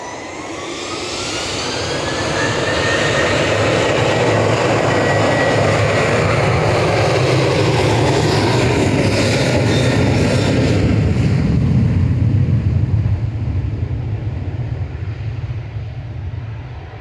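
A Ryanair jet airliner departs Manchester Airport, its engine roar swelling from a distant rumble to a loud sustained drone, then slowly easing as it passes, with no voices.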